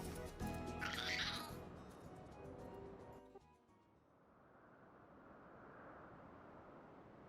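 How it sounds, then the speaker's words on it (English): A cat meows loudly and shrilly in Final Fantasy XIV game audio, a drawn-out caterwaul in the first moments, followed by a soft, windy ambient rush. "Also, there's a terrifying cat here."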